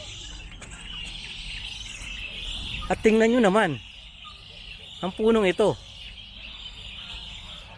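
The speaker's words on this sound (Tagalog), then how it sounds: "Napuno na ng ibon." Birds calling from a tree filled with roosting birds at Al Ain Zoo, two bursts of sharp, warbling calls rising over steady outdoor ambience and insect-like buzz, with someone talking nearby.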